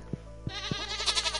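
A goat in Stardew Valley lets out a short, wavering bleat that rises and quivers, up close and clear, after a few soft dull taps.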